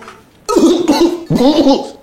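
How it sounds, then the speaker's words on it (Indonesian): Two sharp, loud coughs in quick succession, close to the microphone, each a harsh burst with no talking around them. "kalau batuk pakai masker mas"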